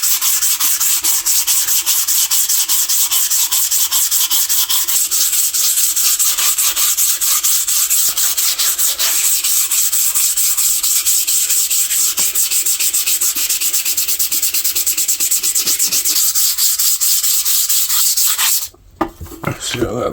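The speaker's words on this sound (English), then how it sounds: "Get to sanding that down." Continuous hand sanding scrapes rust from a vintage saw blade, a loud, steady rasping rub that carries on with little pause until it briefly stops near the end.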